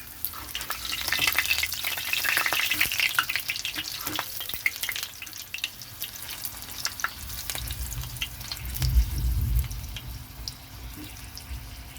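Malabar spinach leaves dipped in gram flour batter fry in hot oil with a steady close sizzle and crackle, broken by occasional stirring clicks and a low rumble near the end; no one speaks.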